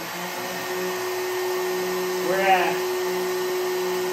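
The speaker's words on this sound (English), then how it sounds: "So we've got blow dryer, heat gun. We're gonna turn that on afterwards." A blow dryer and a heat gun drone steadily as a load on a 100Ah LiFePO4 battery during a load test, with a constant whine and hum and a brief spoken voice.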